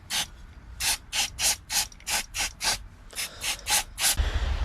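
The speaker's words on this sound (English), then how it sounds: "So let's remove the throttle body and give this all a good clean." A ratchet is worked on a Vauxhall Corsa B C20LET engine to take off the throttle body, giving about a dozen rhythmic rasping clicks in quick even strokes, close and fairly loud with no talk.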